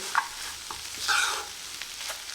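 Egg and carrot stir-fried in a pan, with a steady close sizzle, light scraping stirs and a brief louder burst of frying in the middle.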